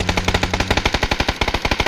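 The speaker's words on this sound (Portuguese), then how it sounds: "eu tô tomando tiro de não sei da onde, velho" Automatic gunfire in the battle royale video game PUBG rattles in a fast, steady stream of loud sharp shots, close and continuous without a break.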